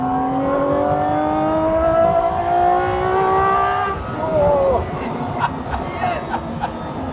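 A GMA T.50 V12 fan car revs hard up a steep hill in fourth gear, its rising, tightly pitched engine note climbing steadily before easing off, loud and close, with people talking over it inside the cabin.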